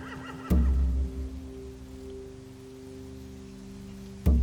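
Horses whinny and snort in The Walking Dead video game, Season 4, a low rumbling horse sound near the start and another at the end over a quiet, steady ambient hum.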